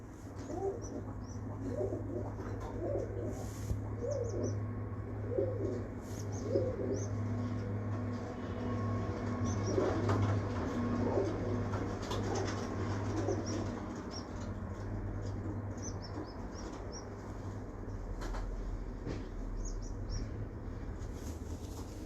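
Breeder pigeons belonging to a fancier coo in low, rolling phrases through a loft, with a steady background hum and occasional wing flutters; several birds overlap at moderate distance with no talking.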